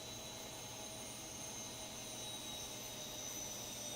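Simulated Boeing 737 jet engines from X-Plane 11's ZIBO model wind down after shutdown, making a steady broadband roar with thin whining tones, heard from outside the aircraft at a moderate, even level.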